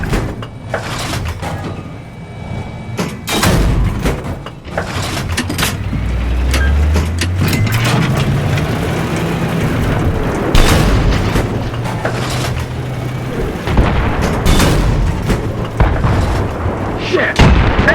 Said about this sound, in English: God bless Hydra 70 rockets!